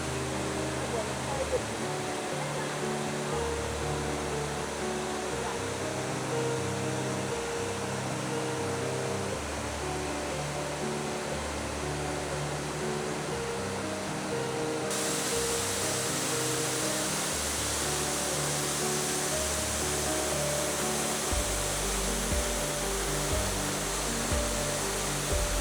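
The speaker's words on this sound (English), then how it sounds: "boy, this is a really nice waterfall." Waterfall on Hainan Island fed by Baihua Tianchi Lake, a constant broad roaring rush of falling water close by, with a person talking over it.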